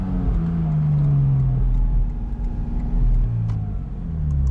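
A Porsche 718 Spyder RS engine revs loud and close, a deep, steady roar rising and falling in pitch with no talk.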